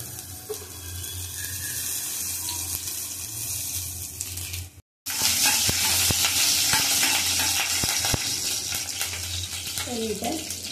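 Mustard seeds, cumin and asafoetida sizzle in hot oil for a monsoon greens bhaji, a steady crackling fry. It cuts off briefly, then returns louder with sharp pops and clatter.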